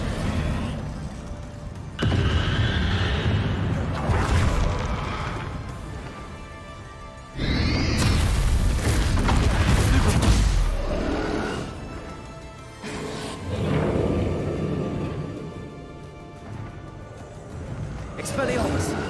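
Spell blasts in Hogwarts Legacy, heard as loud bursts and whooshing impacts in game combat, with a voice talking excitedly over them.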